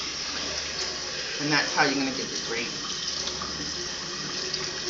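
Water poured from a tap into a hot pan of floured carne guisada meat and grease, a steady splashing rush lasting a few seconds, with someone talking over it nearby.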